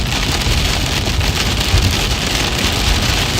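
Heavy rain pours steadily on the back side of a fast-moving thunderstorm near Manhattan, Kansas, a dense, loud, continuous wash with low rumbling underneath and no talk.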